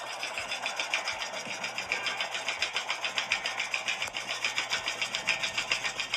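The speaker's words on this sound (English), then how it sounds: "That is the sound of a flagpole gusting in the wind." Metal flagpole rattling in gusting wind during a thunder snow storm, a rapid mechanical clatter with rhythmic bursts about every half second over steady wind noise, fairly faint and without talk.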